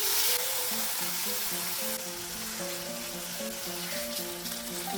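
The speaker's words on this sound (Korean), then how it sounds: "팬에 기름을 두르고 재워둔 고기를 구워주세요." Marinated pork neck meat frying in an oiled pan gives a dense, steady sizzle close up, fairly even throughout, with faint tonal hum from the kitchen beneath and nobody speaking.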